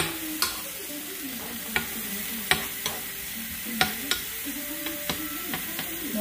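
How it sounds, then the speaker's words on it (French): Onions stir-fried in a pan, a spatula scraping and knocking against the metal in sharp, spaced strokes over a steady background sizzle, close and fairly quiet, with no talking. "on remue un petit peu hein, pour éviter que ça crame"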